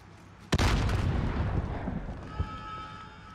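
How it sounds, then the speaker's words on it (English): Grenade explosion in the Modern Warfare campaign: one sudden loud close blast with a long rumbling decay and a smaller thud after it. "That's a grenade."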